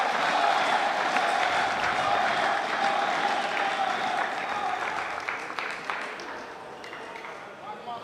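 Crowd applauding and cheering at a Major League Table Tennis match between Florida and Chicago, a steady loud wash of clapping and voices that gradually fades toward the end.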